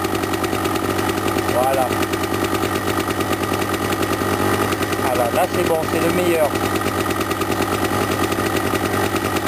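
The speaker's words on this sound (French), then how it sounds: "C'est là où mon régime moteur est le plus élevé." A small engine idles steadily as the carburetor air screw is fine-tuned, its even rumble running throughout while someone speaks briefly over it.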